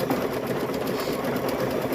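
A sewing machine hums in a continuous close whir while stitching fabric pieces for stuffed bears, steady and fairly loud with no talking.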